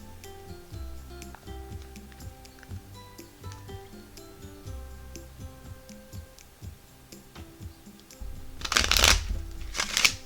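Lenormand oracle cards are shuffled by hand, with soft repeated slides and taps in a steady rhythm, ending in two louder, sharper riffle bursts near the end.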